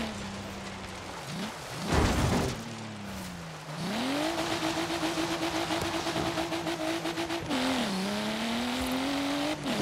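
Car engine at full throttle in Forza Horizon 3, revving up through rising pitch sweeps with gear shifts and a brief tire squeal or impact, loud and close, with no talking.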